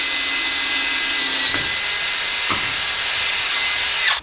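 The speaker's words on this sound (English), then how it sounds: "So now I'm going to drill a quarter inch hole right about in the center of this" Power drill boring a quarter-inch mounting hole while installing a kill switch on a lawn mower: a steady, loud, high-pitched whine held for about four seconds, with faint knocks partway through, then cutting off abruptly at the end.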